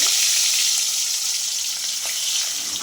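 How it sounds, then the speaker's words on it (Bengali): Small chela fish fry in hot oil over a gas flame at full heat, giving a loud, steady, close sizzle that holds throughout with no voices. "মাছগুলো এবারে ভাজবো।"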